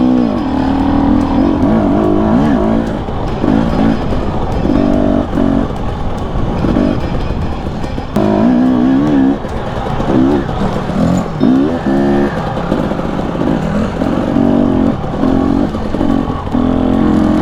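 Husqvarna TE250i and Honda CRF250R dirt bikes ride through large whoops on tight single track, their engines revving and surging in constant rhythmic bursts up close, with repeated throttle blips and no talk.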